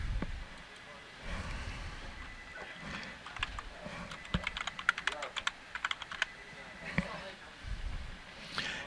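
Fingers tap out a short word on a computer keyboard, a quick run of faint, close key clicks with a few louder strokes, while a person talks.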